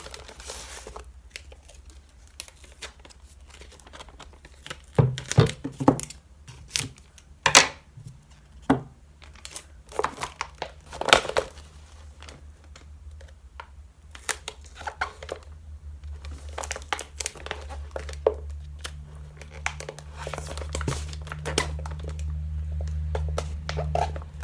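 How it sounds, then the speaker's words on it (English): Tape is pulled and pressed onto a bag woven from soda cans, producing crinkly, sticky tearing and tapping sounds, close and quiet, in irregular bursts with faint background music and no talking. "And then the bottom outside still needs to be taped."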